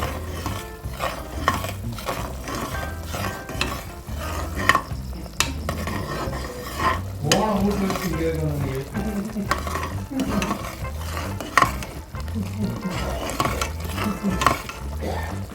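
A spoon stirs spice powder steadily through a sizzling, simmering tamarind rice mixture in a pressure cooker, with soft scraping and occasional clinks against the pan.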